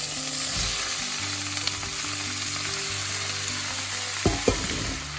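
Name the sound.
chard being mixed in a pan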